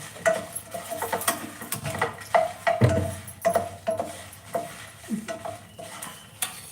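Dried red chilies frying in oil in a pan, with soft sizzling, utensil scrapes and intermittent clinks of metal against the pan, close and moderately loud, with no talking.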